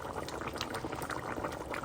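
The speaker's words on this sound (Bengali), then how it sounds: "বটগুলা সিদ্ধ হচ্ছে" Beef tripe boiling in a pot, a steady close bubbling and simmering that runs evenly throughout with no voices.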